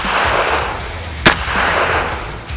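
A single sharp, loud pistol shot cracks out over a steady background hum during tactical shooting training.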